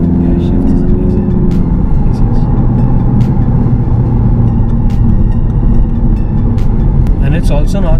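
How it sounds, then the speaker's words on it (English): Exhaust of an Audi TT Coupe on the Pune-Mumbai Express Highway, a loud steady engine drone broken by several sharp crackling pops around gear shifts, heard from inside the cabin with a voice over it. "Crackles when the gear shifts is amazing."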